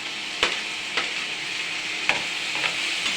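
Tomato goes into onions frying with turmeric in a pan, giving a steady, even sizzle with a few soft knocks and scrapes as it is stirred.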